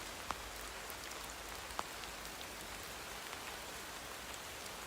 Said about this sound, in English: the sound of the rain falling on the soft earth.